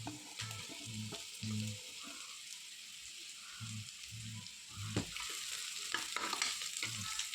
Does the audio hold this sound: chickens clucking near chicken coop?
no